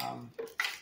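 A small metal coffee spoon from a Tru-15 Bar espresso machine is handled, giving two or three light clinks with short resonant rings, close and quiet.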